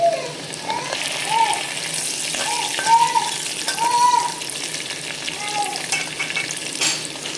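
Curry leaves drop into hot oil for a khichdi and kadhi meal, a steady loud sizzle with stirring and brief crackling spits throughout.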